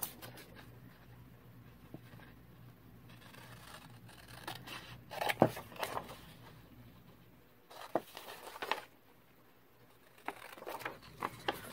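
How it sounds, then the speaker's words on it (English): Scissors cutting out paper labels, faint close snips and rustling paper scrapes in an irregular rhythm in a quiet room. "now let's cut them out real quick and see what we got"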